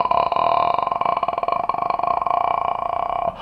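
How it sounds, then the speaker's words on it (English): A singer's vocal fry exercise, a low creaky rattle of rapid separate pulses held steadily for about three seconds, loud and close, then cutting off. "I want us to first of all start with the vocal fry"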